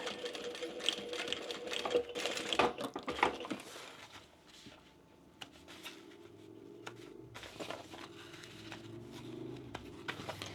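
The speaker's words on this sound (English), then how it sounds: "I'm going to hold that in place and backstitch well at the beginning and end." A sewing machine backstitches a slip pocket onto a bag, with bursts of rapid needle rattle, a brief pause, then steady close stitching with light handling clicks.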